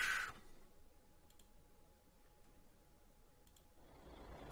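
Hazard lights on a Scania truck tick faintly in a quiet cab, a few soft, sparse clicks over a low background hum.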